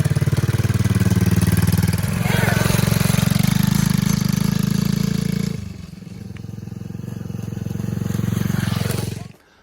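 A dirt bike engine runs nearby during a test ride, a loud buzzing drone that holds steady, drops in pitch and volume as it pulls away, then swells again before stopping, with faint voices underneath.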